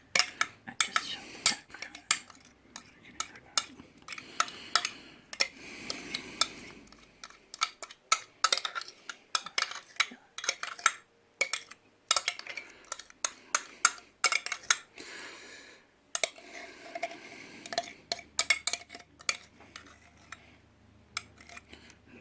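Dressing made with salt, pepper and cilantro is scooped into chopped potato salad ingredients in a bowl, with busy clinks and scrapes of a utensil against the dish, close up, in bursts separated by short pauses.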